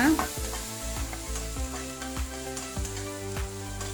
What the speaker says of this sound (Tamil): பச்சை மிளகா, குடமிளகா ரெண்டையும் போட்டு கொஞ்சம் ஃப்ரை பண்ணலாங்க.